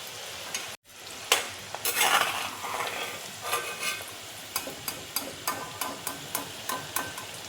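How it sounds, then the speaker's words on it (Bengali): Kabuli chickpeas fry and are stirred in a pan: a soft sizzle runs underneath while a utensil scrapes and clacks against the pan in repeated, fairly regular strokes, close and clear. "কাবলি ছোলাগুলো দেখো সব আমার ভাজা হয়ে গেছে"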